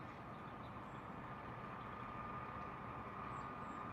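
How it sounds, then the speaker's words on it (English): A Class 66 diesel locomotive revs as it hauls yellow hopper wagons round a corner, giving a steady, broad engine rumble with a faint tonal hum throughout, fairly distant and unbroken, with no voices. "I can hear the Class 66 revving, and here it comes round the corner."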